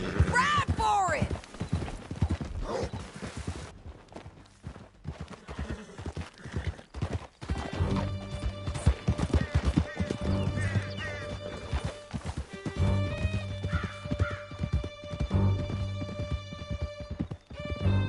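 Horses gallop in the Red Dead video game during a canyon chase, a steady clip-clop of hooves running throughout with an occasional whinny, under music and spoken voices.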